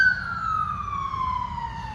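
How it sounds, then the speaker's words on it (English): An ambulance siren passes close by, its single wailing tone sliding steadily downward in pitch as it moves away, loud and clear over faint low traffic rumble. "Sorry, ambulance just went by."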